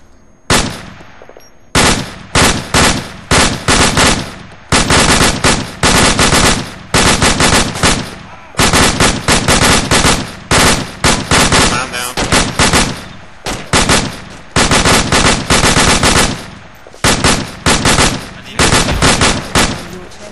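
Machine gun fire in the video game ARMA 2 during an ambush, with loud, sustained automatic bursts hammering almost nonstop, broken only by brief pauses between volleys.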